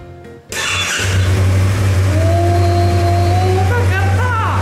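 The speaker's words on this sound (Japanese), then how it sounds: "ではちょっとエンジンかけさせてもらおうと思います。" A Yamaha YZF-R25 motorcycle engine cranks and catches after a brief quiet start, settling into a loud, steady low rumble that continues to the end.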